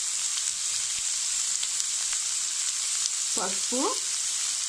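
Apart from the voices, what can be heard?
onions frying in a pan for broccoli tomato curry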